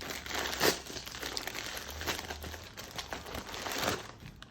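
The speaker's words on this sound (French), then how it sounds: "J'ai été récupérer mon colis Vinted et on va l'ouvrir ensemble" A Vinted parcel is torn open and its plastic packaging crinkles and rustles continuously, close by and moderately quiet, with occasional sharper crunches.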